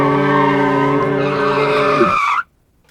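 Car braking hard on stock OEM brakes in a single hard stop, tires skidding with a loud, sustained squeal that slides down in pitch and cuts off abruptly after about two and a half seconds.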